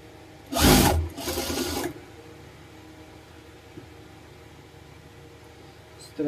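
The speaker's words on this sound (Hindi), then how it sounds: "ऐसे ही सिलाई कर लेंगे इसमें।" Sewing machine stitching a blouse lining in two close bursts, one short and one longer, then quiet room tone with a faint click.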